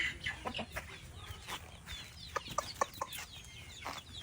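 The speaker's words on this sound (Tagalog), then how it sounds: "Papatulogin natin ngayon ang mga manok." Chickens clucking nearby outdoors, a scatter of short repeated clucks and squawks over a faint, steady background hiss.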